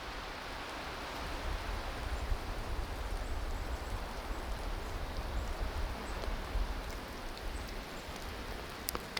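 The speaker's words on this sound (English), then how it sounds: "The wind has picked up." Outdoor wind blowing in warm gusts, a dense, steady broadband rush that holds level for the whole stretch with no voices.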